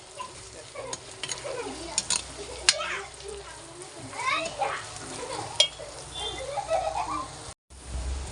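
Green chillies sauté in a pan for mango pickle, giving a soft sizzle with scraping stir strokes, while faint voices and a child's sounds come through in the background.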